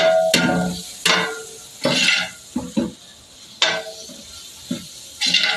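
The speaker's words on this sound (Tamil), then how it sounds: "இப்போ அந்த கொழுப்பை போட்டுக்கலாம்." Meat fat dropped into hot oil for biryani, with close clinks and stirring against the pan and bursts of sizzling between pauses, no talking.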